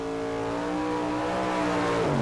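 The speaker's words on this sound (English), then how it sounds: "Glenn Dumont with his Camaro." A Camaro Pro Modified door-slammer drag car at the 1995 Summer Nationals, Santa Pod, its engine roaring loudly and continuously with a rising rev, close and alone with no voices.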